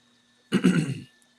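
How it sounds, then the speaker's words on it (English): A single close throat clearing, a short rough rasp lasting about half a second, then quiet. "Excuse me for clearing my throat."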